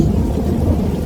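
Rain with a deep rumble of thunder, a steady low roar and patter filling the short stretch without a break, loud and close, with no voices.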